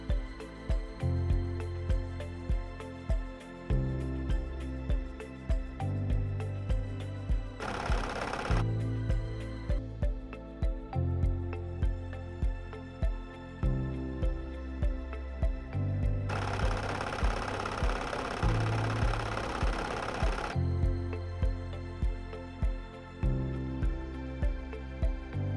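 Several benchtop minicentrifuges, among them an Ohaus Frontier 5306 with brushless motor and rubber base, spin an unbalanced load with a steady loud motor whir and rhythmic knocking rattle, broken by two bursts of harsher broadband noise.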